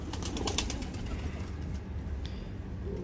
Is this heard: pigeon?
yes